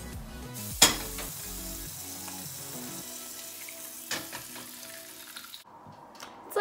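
An egg frying in a pan at breakfast, a continuous close sizzle with a sharp clank near the start and a few scraping knocks, ending on a quieter hiss.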